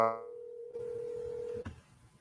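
Telephone keypad tones during a call: a burst of dialing beeps, then a single sustained tone that cuts off, followed by faint line noise.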